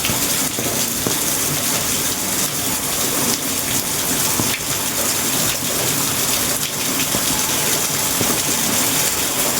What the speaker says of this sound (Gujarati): ચાલુ વરસાદમાં કેવું પાણી પડે છે